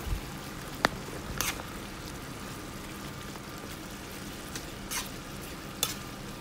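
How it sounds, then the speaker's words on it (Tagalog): A spoon stirs chicken pastil in a pan, making faint, sparse scrapes and clicks over a quiet, low hiss. "Kutsara natin yung ginamit pang halo mga bossing para hindi mahirap pag malaki yung ginamit yung pang halo"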